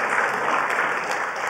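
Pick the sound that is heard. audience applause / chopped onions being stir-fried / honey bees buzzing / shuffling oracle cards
audience applause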